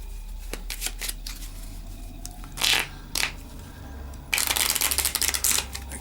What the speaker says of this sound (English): And then I'm actually going to give them a proper shuffle.